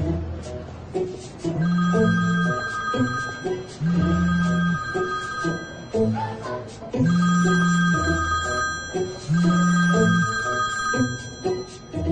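A telephone bell rings in four regular bursts, arranged as two double-ring pairs with short pauses between them, clear and fairly close with no talking.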